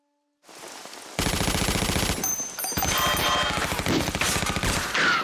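Sustained automatic gunfire from the movie 28 Days Later bursts in after a quiet start, a loud rapid rattling fusillade that continues with brief dips to the end.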